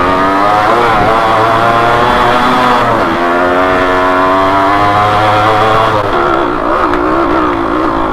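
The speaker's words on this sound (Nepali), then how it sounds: "त्यो विली हान्दैछ, आफ्नो बाइक तानेको छैन।" A 2-stroke off-road motorcycle revs hard up close during a trail race, its buzzing engine note climbing and dipping through gear changes, loud and continuous with no talking.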